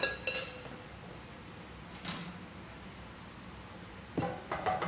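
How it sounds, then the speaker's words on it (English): A punch drink in a bowl is stirred, giving a few scattered clinks and knocks of utensil against the bowl over a quiet background. "Give that a little stir"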